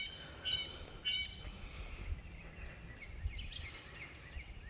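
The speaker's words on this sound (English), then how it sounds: "Can y'all hear the birds chirping?" Faint, high bird chirps come in short bursts over a low outdoor rumble, with scattered calls continuing in the distance.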